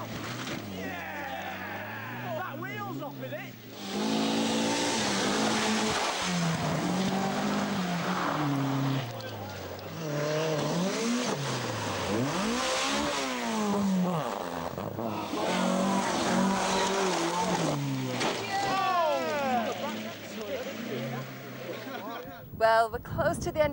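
Rally cars race and skid on a stage, engines revving and shifting pitch loudly as they pass close by, with tyre noise, while a commentator talks over the action.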